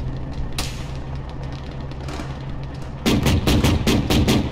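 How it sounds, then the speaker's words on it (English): Artillery shelling and gunfire in a military video game: a low rumbling battle bed with scattered thuds, then a dense run of loud, close rapid shots in the final seconds. "We don't really have a direct way up because we're getting shelled"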